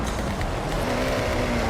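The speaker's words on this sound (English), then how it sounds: "You can hear the engine has more power." A car engine in Forza Horizon 6 revs hard and steady, a loud continuous droning roar throughout.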